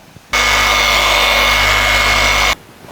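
A loud, steady electric whine from a polishing machine on the paint of a Mercedes C63 AMG runs for about two seconds, starting and stopping abruptly.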